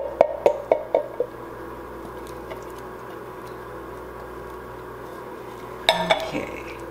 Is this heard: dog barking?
no